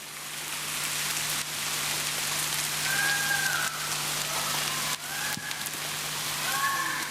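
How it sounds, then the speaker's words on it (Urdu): Heavy, continuous rain pours down in a dense, unbroken hiss of drops hitting surfaces, loud and close throughout, with faint tonal sounds drifting in behind it. "شدید بارش ہے, مسلسل بارش ہے, مسلسل برسنے والی بارش ہے"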